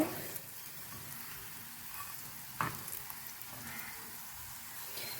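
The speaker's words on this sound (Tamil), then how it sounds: "நல்லா ஃப்ரை ஆகிடுச்சு" Plantain slices coated in semolina fry in hot oil with a steady, close, crackling sizzle and a single small clink partway through.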